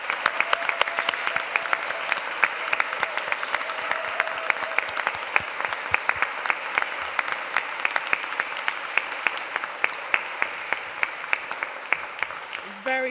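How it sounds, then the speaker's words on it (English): Sustained applause from a large audience honouring graduates at a graduation ceremony in Greenwich, steady dense clapping lasting throughout at moderate volume. "give our graduates a round of applause"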